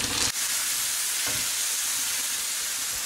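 Tomato hitting a sofrito of golden onion and carrot in a pan, giving a steady broadband sizzle throughout with a brief sharp burst at the start, close and even.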